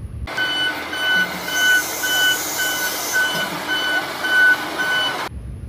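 A toy tow truck sounds its reversing alarm, a steady series of evenly spaced high electronic beeps over a faint hum, starting and stopping abruptly, with no talking.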